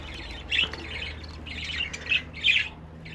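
Budgerigar chicks squawking in a nest box, repeated harsh bursts at an uneven pace, close and fairly loud over a low background hum.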